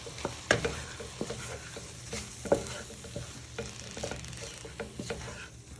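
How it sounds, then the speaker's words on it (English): Steak and ale pie sauce with brown ale and a beef stock cube gets stirred in a pan: a spoon scrapes and taps the pan base in uneven strokes over a low, steady sizzle, close and with no talking. "You add in the brown ale and the also beef stock cube. So you just give it a little stir."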